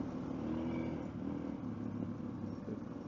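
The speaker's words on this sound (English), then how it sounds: "The one good thing about this exhaust is the deer hear it, right?" A Suzuki DR650 dual-sport motorcycle's exhaust drones on a national forest ride, a steady low engine rumble at moderate distance that stays fairly even and subdued throughout.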